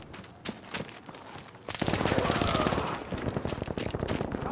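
Battlefield 1 gunfire opens with scattered shots, then turns into a dense, rapid stream of automatic fire that rises loud and keeps going in quick repeated bursts.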